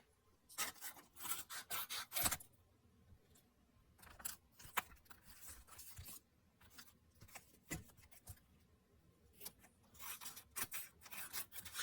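Scissors cutting paper parts of a handmade sticker book, heard as a faint, close series of irregular snipping and rasping bursts with quiet gaps between them.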